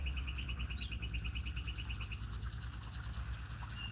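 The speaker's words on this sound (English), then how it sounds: "listen to the birds" Birds chirp in a quick, regular series of high, repeated notes, fairly close, over a steady low background hum, with no talking.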